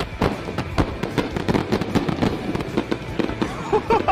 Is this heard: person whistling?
no